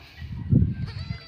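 A single goat bleat swells up near the middle, a short wavering cry close by over low background noise.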